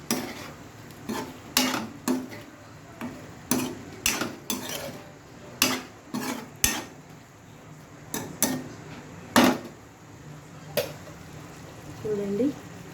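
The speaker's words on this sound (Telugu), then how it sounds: "మంచిగా మిక్స్ చేయండి." A utensil stirring egg stuffed capsicum curry with coriander powder and masala in a pan: repeated sharp metallic scrapes and clinks against the pan at an irregular rhythm, close and clear over a faint background hiss.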